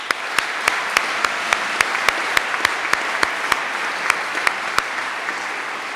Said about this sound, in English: join me in giving a big round of applause to the teachers and staff